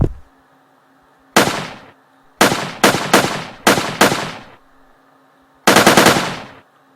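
Gunfire from a weapon in a Unity3D tutorial video game, heard as sharp synthetic shots with short decaying tails: a single shot, a rapid cluster of four, then another, over a faint steady hum.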